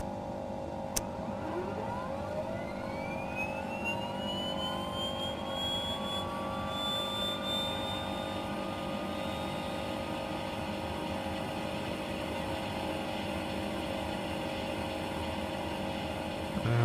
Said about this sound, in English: We'll head back inside now and we'll get the right engine started.